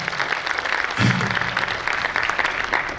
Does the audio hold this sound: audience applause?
yes